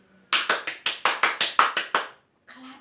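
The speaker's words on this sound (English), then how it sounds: "clapping loudly." Ten loud, crisp hand claps come in a quick, steady run, close up, as a teacher shows clapping loudly; a short voice is heard just after.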